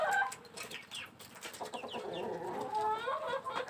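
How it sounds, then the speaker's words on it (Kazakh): Young Lohmann Brown hens cluck softly in a coop, with a scatter of short clucks and murmuring calls, quiet and close, with no talking. "Мен жас тауықтарым міне."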